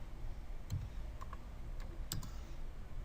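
Computer keyboard typing a short value, a handful of sparse, crisp key clicks close by over a faint hum, no speech.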